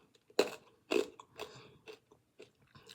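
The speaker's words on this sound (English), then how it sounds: "I had a cough drop, so chewing that" Close, crunchy chewing of a cough drop: a few sharp bites followed by softer, irregular mastication sounds over about three seconds.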